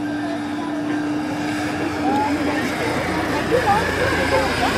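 A helicopter turbine engine running steadily with a droning whine close by, with someone talking over it in French.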